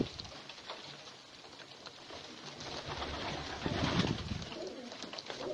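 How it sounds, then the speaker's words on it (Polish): Pigeons feeding from an outstretched hand outdoors give soft, low cooing with light pecking and fluttering patter, close by and fairly quiet, with no talk. "Dobrze wychowane gołąbki."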